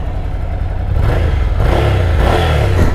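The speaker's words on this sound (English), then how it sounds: "Let's hear this stock exhaust." A Ducati Scrambler motorcycle with stock exhaust revs up loudly and close by, its deep exhaust roar rising and holding at high revs.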